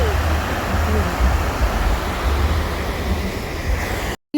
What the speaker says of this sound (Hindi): ये देखिए पानी कैसे नीचे जा रहा है।